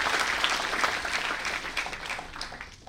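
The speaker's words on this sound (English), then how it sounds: "I think a big round of applause." Audience applause at a national conference for chartered accountancy students, a dense wash of many hands clapping that fades gradually over a few seconds.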